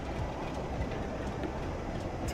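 A Class 87 locomotive hauling a mail train rolls past in the Train Sim World 6 game, a steady rumbling rail roar with faint wheel clatter, continuous and fairly even.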